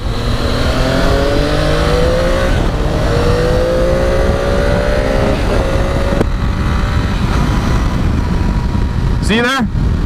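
A motorcycle engine climbs through its revs while being ridden, with rising tones in repeated pulls under constant loud wind roar and a rider talking over it.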